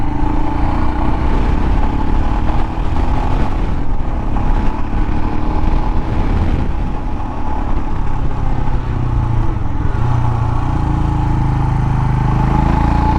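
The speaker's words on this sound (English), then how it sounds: "I just love this motorcycle" Royal Enfield Himalayan motorcycle being ridden in cold weather, with a loud, continuous engine drone and rushing wind noise throughout, broken only by brief dips in the throttle.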